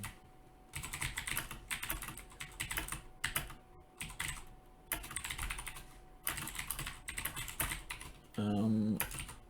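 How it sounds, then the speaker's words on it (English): Rapid, continuous typing on a loud computer keyboard, heard up close in bursts with short pauses, ending in a brief louder thump. "I have a really loud keyboard back here in Indiana."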